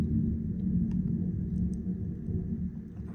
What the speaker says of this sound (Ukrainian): Вам чутно, як воно гримить?